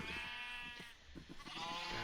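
Sheep bleating in Minecraft, a drawn-out quavering bleat that is soft and somewhat distant, with a brief lull in the middle.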